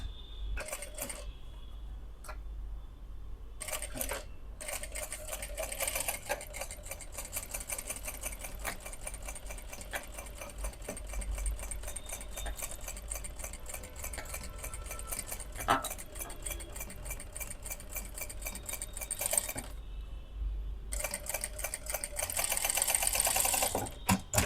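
A sewing machine stitches around a kurti neckline in long, steady runs of rapid needle chatter, stopping briefly a few times before starting again, close and with no talking.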